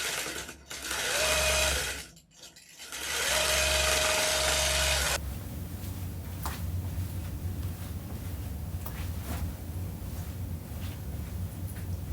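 A longarm quilting machine stitches a Kantha quilt with a loud, steady motorized whir that stops briefly and starts again, then gives way to quieter rustling and handling noises.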